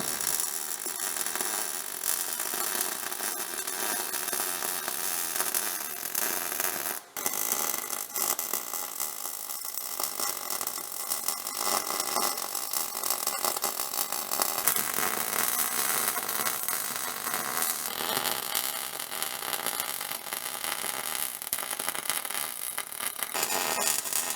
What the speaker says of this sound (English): I'm gonna grab the welder, hook everything up, and then weld a bead across all these C-channels